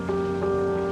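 Steady rain falls in the video game South of the Circle, a continuous even patter with a tonal musical drone running through it and no voices.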